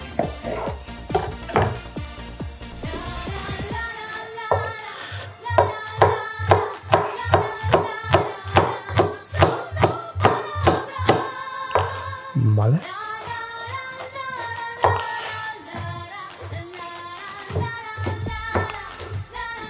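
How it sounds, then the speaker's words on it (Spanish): Rapid, steady knife chops on onion against a cutting board, close and fairly loud, in a kitchen setting, with a short pause near the middle before the chopping resumes. "Vamos a picar un poquito de cebolla."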